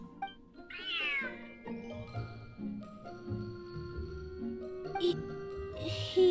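A cat in the video game Genshin Impact meows several times, drawn-out and tonal, over soft game music with light chimes, while a person talks intermittently.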